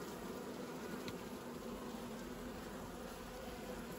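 Honey bees hum in a thick, continuous buzz at an open hive while a swarm is joined to a mite-stricken colony, close and unbroken with no talking.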